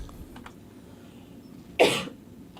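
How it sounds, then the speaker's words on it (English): One sharp cough, prompted by smoky outdoor air, bursts out near the end after a few quiet seconds of faint background noise. "Sorry, I had to cough."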